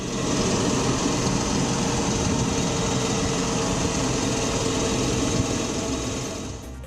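A driverless tractor on a Haryana farm runs steadily in automatic straight-line mode, its engine a constant close, loud drone with no break and no talk.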